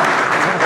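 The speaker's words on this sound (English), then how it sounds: "we got the first real clap" Audience clapping during a Samsung Slide PC 7 tablet-netbook product presentation, a dense, steady burst of applause filling the short moment with faint voices mixed in.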